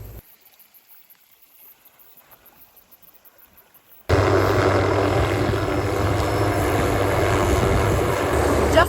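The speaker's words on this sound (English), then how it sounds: "Chopper's just arrived to pick up a group of hunters." A helicopter arrives at a backcountry hunting spot in the Kaimanawa-Kaweka ranges to collect a group of hunters, its loud, steady rotor and engine roar starting abruptly and holding close after a few seconds of near quiet.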